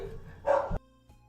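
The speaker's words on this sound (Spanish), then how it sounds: "Me disculpo por mis perros." Two dogs give a short, sharp burst of barking at a house, one quick yappy outburst followed by a brief faint yip a moment later.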